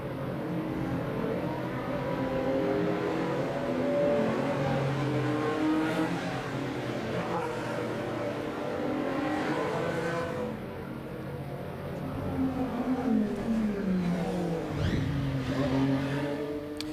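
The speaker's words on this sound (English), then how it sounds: "as we see Hinch get started up and sent away." IndyCar race car, the number 5, at the 2017 Detroit Grand Prix on a street circuit, engine revving up through rising gear sweeps as it pulls away, loud and continuous with other engines whining around it.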